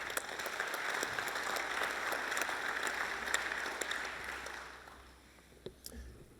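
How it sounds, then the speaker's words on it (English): Dense audience applause at a LambEx 2024 awards session for a wool clip award winner, a steady wash of clapping that holds for several seconds, then thins to a few scattered claps as it fades. "a big round of applause for Pepper Wells Partners."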